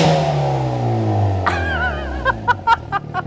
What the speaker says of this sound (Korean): 여기서 팝앤뱅 사운드 한번 들려드려 보도록 할게요